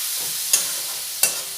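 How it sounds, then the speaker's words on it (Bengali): Flat beans frying with turmeric and salt in a pan, a soft continuous sizzle broken by two sharp scraping stirs of a spatula, close and alone. "স্বাদ মতো নুন দিয়ে শিমটাও খুব ভালোভাবে ভেজে নেব।"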